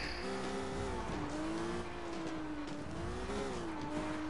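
Tires squeal and skid on a car in the Sleeping Dogs video game, a long wavering screech over steady engine noise, loud and continuous without speech.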